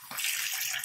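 A bathroom tap runs at a sink while a toothbrush is rinsed, a brief close hiss of flowing water.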